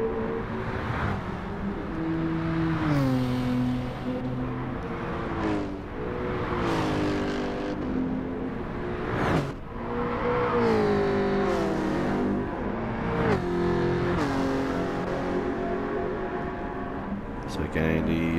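Group 4 race cars in Gran Turismo 7, including a Mustang, roar through repeated upshifts and revving engine sweeps, with other cars passing, while a commentator talks over the racing throughout.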